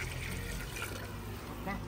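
Mineral water poured into a pot for macaroni soup, heard as a continuous splashing, gurgling pour. People talk over it.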